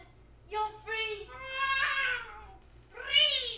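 A cat meows several times in a scene from the comedy film History of the World Part I: a few short, fairly clear mews followed by a longer, drawn-out cry, alone over a quiet low hum.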